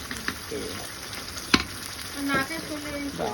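Ginger, garlic, green chilli and dried chilli paste sizzle in hot oil for a mutton curry, a steady soft frying hiss with occasional stirring clinks and scrapes of a spoon in the pan.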